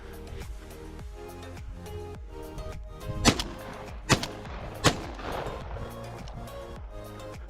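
Three sharp shotgun blasts ring out during a February wood pigeon hunt outdoors, loud cracks spaced about a second apart over a background of faint rhythmic noise.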